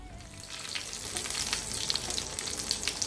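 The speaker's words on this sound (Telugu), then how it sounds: "దానిలోకి అరటికాయ ఫ్రై చేస్తున్నాను." Raw banana pieces frying in a pan, a steady close sizzle with crackling oil bursts running throughout, no voices.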